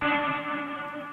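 A washy, echoing ambient swell with a smeared, tonal tail that slowly fades, a recorded reverb sound hanging in the air.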